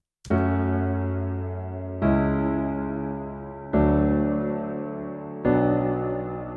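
Four sustained chords played one after another at an even pace, each struck cleanly and left to ring and decay before the next.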